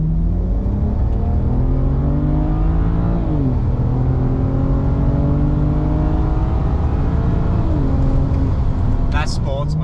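A BMW with an N54 engine and Alpina transmission flash accelerates hard while merging onto a highway, its loud, steady engine drone rising through the revs with two clear gearshift dips, heard from inside the car.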